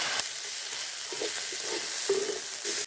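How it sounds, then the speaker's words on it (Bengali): Onion, garlic, ginger and green chili frying lightly in a pan make a steady, close sizzle with soft stirring scrapes and small pops throughout. "পেঁয়াজ, রসুন, আদা আর কাঁচা লঙ্কা এগুলো দিয়ে একটু হালকা ভেজে নিয়ে দিয়ে দেবো মটরশুঁটিগুলো"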